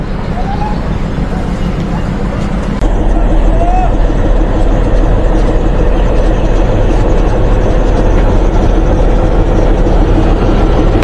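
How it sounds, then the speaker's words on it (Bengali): Rajbari shuttle commuter train at Jagati railway station in Bangladesh, a steady loud low rumble of rolling railcars that swells after a few seconds, with wind buffeting the microphone throughout. "এটি হচ্ছে একটি শাটল ট্রেন।"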